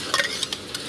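Halwa ingredients being roasted in ghee in a pan for a cow's winter treat, giving a few quick scraping stirs over a soft sizzle, close and brief.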